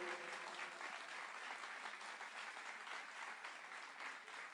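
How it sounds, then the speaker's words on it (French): Sustained applause from a crowd at a jazz and slam poetry evening, thick clapping heard at a distance and quite faint, holding steady without any voices. "je vais vous demander de faire un tonnerre d'applaudissements pour lui"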